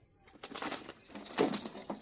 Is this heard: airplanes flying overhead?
no